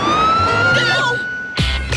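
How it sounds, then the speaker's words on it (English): Police car siren in the cartoon series W.I.T.C.H., a single rising wail that holds steady, then cuts off into a short burst of other noise near the end. "No, but there's a police car."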